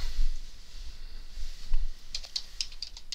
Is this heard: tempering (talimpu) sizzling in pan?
no